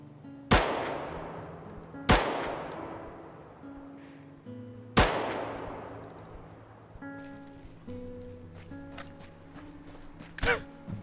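Three heavy SVD sniper rifle shots ring out in a video game, spaced irregularly, each a sharp loud crack with a long decaying tail, over ambient game music and a fainter pop near the end.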